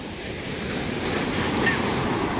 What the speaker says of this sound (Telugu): అలలు అయితే చాలా అతి వేగంగా వస్తున్నాయి